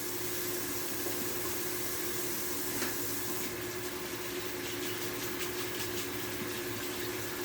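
A kitchen tap runs steadily for hand washing, a continuous close rush of water with no pauses and no voices.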